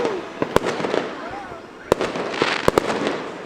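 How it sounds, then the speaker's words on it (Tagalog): New Year fireworks burst at a distance outdoors near an airport, with several sharp pops and cracks at irregular intervals while voices talk nearby. "May mga fireworks eh."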